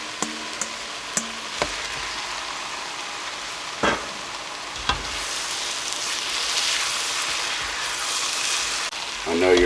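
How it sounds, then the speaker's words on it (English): Ground beef, garlic and vegetables fry and get stirred in a pan, with a continuous sizzle that swells toward the end and several sharp clacks of a utensil against the pan. "we're going to add our ground beef and garlic back into it. We're going to give this a mix."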